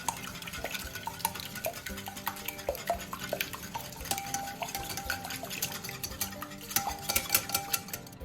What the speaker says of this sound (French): Je casse un œuf entier. Et je fouette.